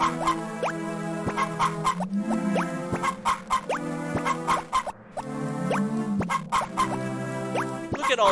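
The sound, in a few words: chickens clucking in Harvest Moon Friends of Mineral Town video game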